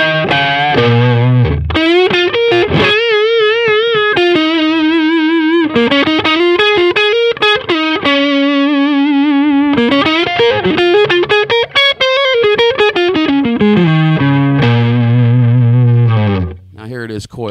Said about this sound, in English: Here it is, distortion added with it, humbucking.